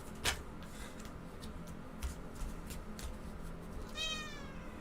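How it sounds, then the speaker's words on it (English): A cat meows softly a couple of times, faint and close, with light ticking and clicking noises scattered around it in a quiet room. "I usually don't believe your meows."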